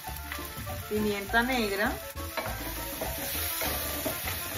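A chicken breast browns in a pan with a steady soft sizzle and frying crackle, sitting under a person's speech.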